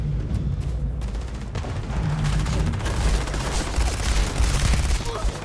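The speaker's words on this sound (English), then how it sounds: "Threw a grenade behind me" Grenade blasts and steady gunfire from the Starfield video game, a dense continuous barrage of shots and booms at high level with no gaps.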